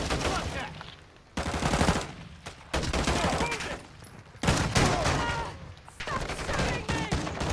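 Dense automatic gunfire crackles in bursts through a Call of Duty: Modern Warfare II match, loud and close, with short gaps between volleys and voices speaking over the shooting.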